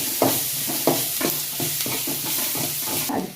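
Chicken being stirred with green chilies, crushed garlic and ginger for a village-style fry, loud sizzling under a rhythmic series of about ten spoon scrapes against the pan, close up with no voices.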